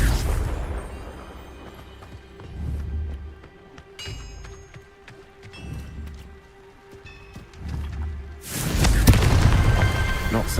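Confringo fire spell explosions in Hogwarts Legacy, a series of deep booming thumps spaced a couple of seconds apart, ending in a larger, louder roaring blast.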